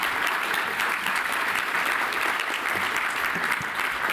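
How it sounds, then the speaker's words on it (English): Audience applause at a groundbreaking ceremony with the mayor, a steady, even wash of many hands clapping for several seconds at moderate loudness, with no talk over it. "So please, a moment of applause."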